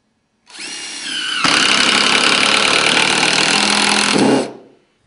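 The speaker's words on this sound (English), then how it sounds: "I'm using an impact driver." An impact driver sinking a FastenMaster Cortex screw into PVC trim, a motor whir ramping up then a loud sustained rapid hammering rattle for about three seconds before cutting off.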